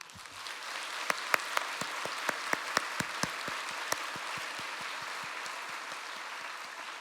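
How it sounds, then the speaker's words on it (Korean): A church congregation in Seoul gives applause during a 50th-anniversary service, a soft, fairly distant patter of many hands with a few sharp, louder individual claps standing out near the start before it settles into an even ripple. "지금은 낙원에 계시는 김응삼 목사님께 박수를 올립니다"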